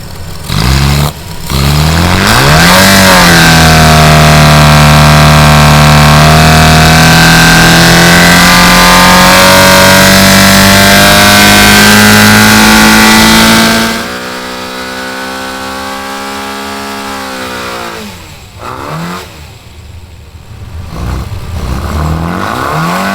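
A historic Mini Cooper race engine on a test setup fires up and revs hard, a loud sustained roar climbing and holding high before dropping back to a rough idle with a few blips at the end.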